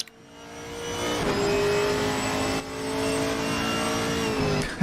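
Ginetta GT4 race cars circle a track in a sim racing game, their engines holding a steady, loud whining drone with a slight dip partway through, with no talk over it.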